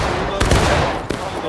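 Musket volleys in a Pickett's Charge day event of a multiplayer video game, two sharp crackling bursts over a dense background of distant gunfire and battle noise, with voices faintly mixed in.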